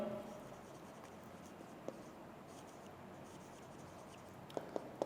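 A teacher writing a synonym on a board during an English lecture: faint, soft scratching strokes with a few light taps of the marker or chalk, quiet and close in a still room.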